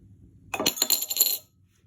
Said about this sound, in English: On flicking, the card moves away, but the coin drops into the glass tumbler.